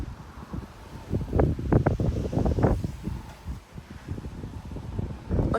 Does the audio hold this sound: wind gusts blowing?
yes